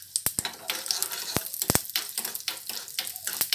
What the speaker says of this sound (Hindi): राई क्रैक हो रही है, उसके साथ साथ थोड़ा सा चना दाल, थोड़ा सा उड़द दाल, अच्छे से फ्राई कर लेते हैं।